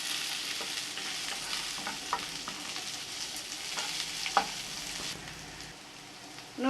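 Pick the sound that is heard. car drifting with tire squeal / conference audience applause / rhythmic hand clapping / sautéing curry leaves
sautéing curry leaves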